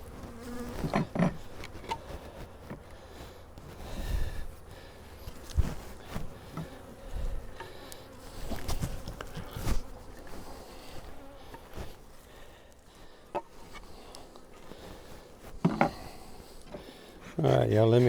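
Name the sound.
honey bees buzzing around opened beehive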